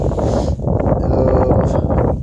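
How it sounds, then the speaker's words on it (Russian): Steady, loud wind buffeting the microphone, a continuous low rumbling roar with no pauses. "плохо слышно, ветер задувает"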